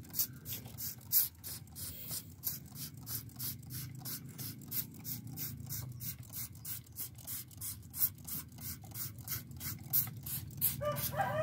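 Hand sprayer misting water onto chili seeds during seed treatment before sowing, a steady series of rapid, close pump-spray bursts repeating evenly throughout, with no talking.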